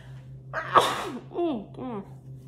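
A single close, sharp allergy sneeze with a quick inhaled buildup, followed by a couple of short breathy voiced sounds, over a low steady hum.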